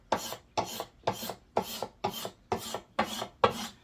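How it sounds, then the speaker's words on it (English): A raised spot on a walnut board is shaved off at a slight angle: eight steady, evenly spaced rasping strokes, close and dry, with no talking. "I'm going a little bit on an angle. Just shaving that right off."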